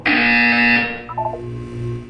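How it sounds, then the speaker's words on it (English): A loud electronic buzzer from the Portal 2 video game blares steadily for about a second and then cuts off, leaving softer tones and a low hum behind. No voices. "When you hear the buzzer, look up at the ceiling."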